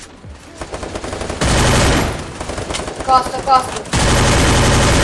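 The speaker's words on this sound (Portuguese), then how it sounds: "Ele tá me atirando." Rapid automatic gunfire from the Free Fire video game bursts out in loud, sustained volleys separated by brief lulls, with a player talking briefly over the shooting.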